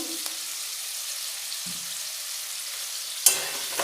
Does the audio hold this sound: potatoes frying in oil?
yes